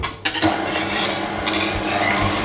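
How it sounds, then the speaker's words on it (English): A spatula scrapes a mixing bowl of red velvet cupcake batter made with butter and egg. Close, clattering scrapes and knocks follow a brief quiet start, then continue in short, irregular strokes. "And don't forget to scrape the bowl."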